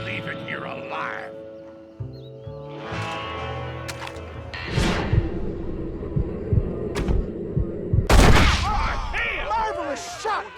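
Gunfire in the video game Red Dead Redemption: a few sharp, loud shots ring out over game music and ambience.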